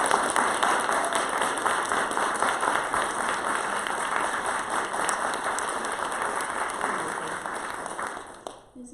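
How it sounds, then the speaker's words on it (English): Audience applause for faculty and staff at Cottey College, a dense sustained wash of many hands clapping that holds steady for several seconds, then fades and stops. "So we can just give a round of applause for them."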